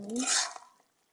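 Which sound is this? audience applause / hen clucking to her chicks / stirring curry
stirring curry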